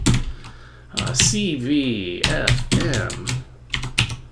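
Typing on a computer keyboard while programming on a Raspberry Pi: quick bursts of close plastic key clicks and clatters, interleaved with someone talking.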